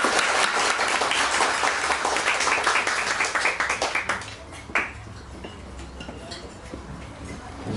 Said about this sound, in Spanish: Pido un aplauso para nuestra hermana